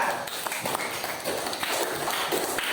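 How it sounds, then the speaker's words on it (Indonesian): A classroom of students claps together for a presenting group during a teacher training lesson, with dense, steady, mid-loud applause running throughout the short stretch. "beri tepuk tangan untuk kelompok 3"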